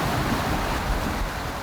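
Big ocean waves surging around a sailboat at sea, a loud continuous roar of rushing water and wind buffeting the microphone with no talk.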